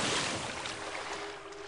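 Water in the video game Vorlorn gives a steady, rushing, wave-like wash of even loudness that fills the whole moment, with no talking.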